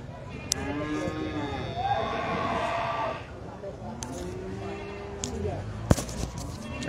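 Cattle at a livestock market in Tanah Laut lowing with drawn-out moos amid other animal calls and steady crowd din, with people talking nearby throughout.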